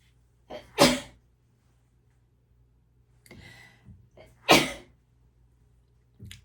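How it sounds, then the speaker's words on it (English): Two loud, close sneezes a few seconds apart, each with a short breathy intake before the burst, from a woman doing her makeup, with a softer breath between them. "I have an obnoxious sneeze."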